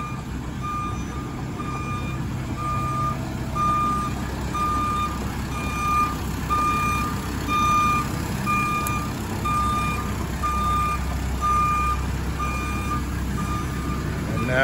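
Remote-controlled wireless crawler spinning in place, its reversing beeps repeating in a steady rhythm, clear and fairly loud over a constant low motor hum.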